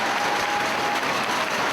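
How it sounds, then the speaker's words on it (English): A wrestling crowd at a Bryan Danielson vs. KENTA match cheers and claps in a continuous roar, urging the downed wrestler back to his feet, heard as a dense, steady wash of crowd noise. "the crowd urging him to get back to his feet"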